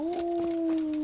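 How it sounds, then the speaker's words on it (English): A dog howls in the Kingdom Come Deliverance video game, one long steady mournful tone held at a near-constant pitch over soft ambient background. "Oh, that's the dog."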